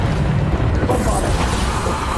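A Bombarda spell explosion in Hogwarts Legacy bursts with a rumbling boom that swells into a bright, rushing blast partway through, with a voice calling out amid the game noise.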